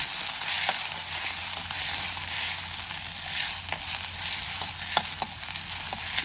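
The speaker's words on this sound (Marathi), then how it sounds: "आता मी कांदा टाकते. हे बघा, कढीपत्ता विसरला होता, आता मी टाकते. तेलात तळला जातो तो पण छान." Onion and curry leaves fry in oil with a pinch of asafoetida for Solapuri misal, a steady, close crackling sizzle with occasional sharp pops and spoon clicks, alone without talk.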